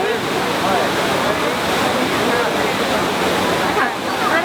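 Water of the Trevi Fountain in Rome splashes and rushes in a loud, steady wash, with voices of people nearby mixed into the spray.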